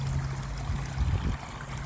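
Water trickling and splashing steadily in a backyard pondless waterfall fed from a reservoir, heard close as a continuous bubbling flow with a low pump hum underneath.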